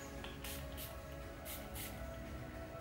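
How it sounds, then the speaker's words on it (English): Several short hissing bursts of a fine aerosol shimmer spray onto skin, evenly spaced, close by and fairly soft. "Just sprayed some on the skin and this gives like a really gorgeous glow"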